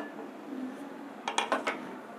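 Roasted grains for a nutritious porridge mix being tipped into a pan, heard as a short cluster of four rattling, scraping pours near the end after a quiet stretch.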